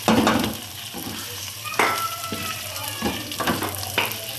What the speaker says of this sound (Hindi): अब हमने प्याज तली हुई है ये डालेंगे